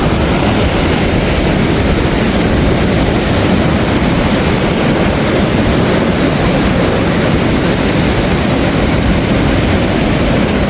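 Powerful East Sea waves break at Gampo harbor, producing a loud, unbroken roar of surf with heavy low rumble and wind buffeting the microphone throughout.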